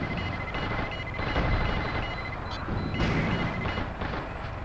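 Rockets firing from a mech in the Steel Battalion game, a dense continuous barrage of booming launches and rumbling blasts that swell and pulse in loud waves throughout, with no talking.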